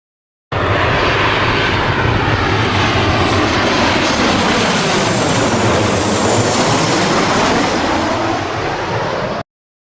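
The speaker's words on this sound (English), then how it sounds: "Airplane." An airplane's engines roar in a loud, continuous drone with a slowly shifting pitch sweep, as if passing close overhead, sustained evenly for about nine seconds.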